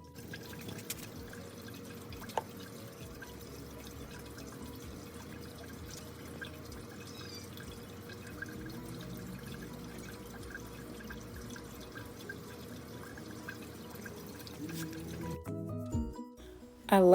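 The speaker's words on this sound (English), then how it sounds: "I have the fountain going because the sound of the water," Garden water fountain running outdoors, a steady close trickle and splash of water with small drips that continues unbroken throughout, with a brief clatter near the end.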